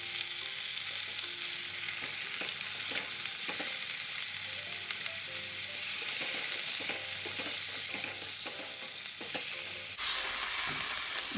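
Chicken pieces sauté in a hot pan with browned garlic and shallots, giving a steady, close sizzle and crackle with occasional stirring scrapes and no voices.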